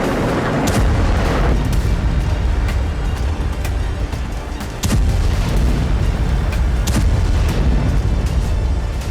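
Continuous heavy rumbling with repeated booms and sharp blasts of artillery fire and explosions in the Gaza war, loud and dense throughout with no speech.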